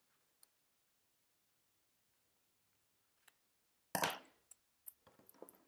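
Scissors cut diagonally across the corner of a paperback book cover, giving a few sharp, close snips and crinkles of paper after near silence broken by faint isolated clicks.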